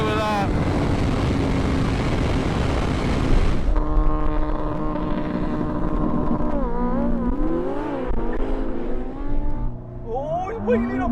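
Drag race launch between a BMW M 1000 RR superbike and a 1000 hp Ferrari SF90 Stradale: a loud, dense engine roar for several seconds, then quieter engine tones that rise and fall as the vehicles pull away.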